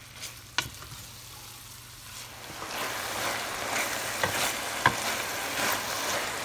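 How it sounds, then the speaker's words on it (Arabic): Minced kefta stirred and frying in a pan for lasagne, a steady sizzle that grows louder after a quieter start, with a few sharp scraping clicks of the spoon against the pan. "غادي نحركها واحد شوية ونخليها تاني تقلى في غضها"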